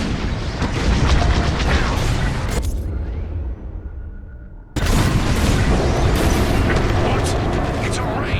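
Bombs going off during a bombing run in the space combat game Star Wars: Squadrons, a loud continuous barrage of deep booming blasts that drops away briefly partway through and then surges back at full intensity.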